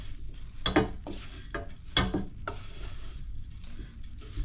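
A thick no-bake breakfast bite mixture stirred in a bowl, with uneven scraping and thudding strokes in short bursts, close up and moderately quiet.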